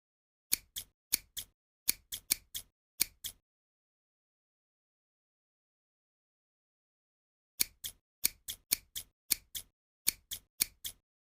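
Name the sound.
scissors trimming eyebrow hair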